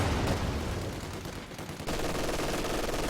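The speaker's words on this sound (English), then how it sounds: "White phosphorus rounds going into the garrison here." Rapid bursts of white phosphorus rounds firing during a war video game battle, dense and continuous with a brief dip midway before the volley resumes loud and steady.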